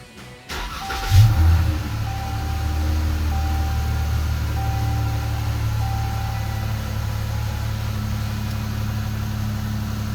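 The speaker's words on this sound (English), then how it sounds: "Now we're going to go ahead and start the vehicle." A 2015-2017 Dodge Challenger with a V6 engine cranks briefly and fires up, then settles into a steady, loud idle with a low rumble and a faint whine running throughout.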